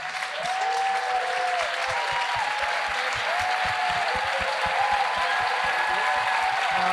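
A crowd at a SXSW film screening Q&A applauds the film crew, dense sustained clapping filling the whole stretch with a few whoops over it.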